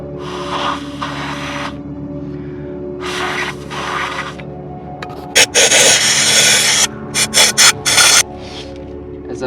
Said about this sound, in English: As I'm working this brush, I rotate it a little bit because it helps it go in the hole and come out easier